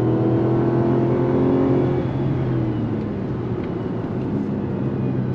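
A 2024 Mazda CX-90 midsize SUV accelerating on throttle, a steady engine drone with a rising tone heard from inside the cabin, loud and continuous with no talking.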